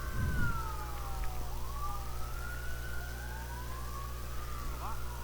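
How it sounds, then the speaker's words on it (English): Ambulance siren as the vehicle leaves a station across the street from a ballfield, a rising and falling wail heard at a distance over steady low rumble and crowd background. "Have the ambulance leaving the station right across the street."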